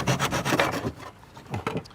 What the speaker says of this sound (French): on a coupé ce petit morceau de bambou qui fait effectivement les 15 cm